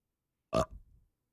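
A single short burp, close and fairly loud, tails off into a brief low gurgle and then quiet.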